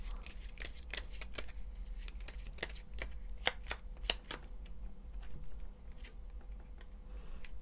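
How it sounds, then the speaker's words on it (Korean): Tarot cards are shuffled and drawn by hand at close range, giving a quick series of crisp papery flicks and snaps over a low steady hum, with no talking. "조언 카드 뽑아볼게요."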